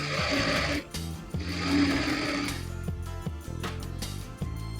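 A sewing machine running in fast, continuous bursts while stitching the hem of a Patiala salwar, with short pauses between runs and a mechanical rattle. No one talks.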